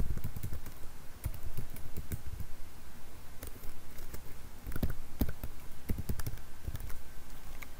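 Someone types a folder name on a computer keyboard, with close, steady clattering keystrokes and a few heavier taps of individual keys over a faint background hum.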